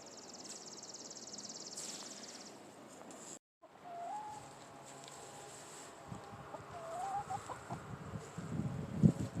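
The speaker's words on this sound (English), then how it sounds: "now they're out in their run, they're pecking and scratching and having a good old time" Chickens cluck softly nearby, with scattered bright calls and some scratching and pecking noises building toward the end.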